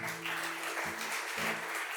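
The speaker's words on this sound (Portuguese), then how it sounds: "Você pode dar uma salva de palmas para Jesus?" A church congregation claps together in praise during a sermon, a dense, fairly distant patter of hands that swells slightly at moments and continues without words.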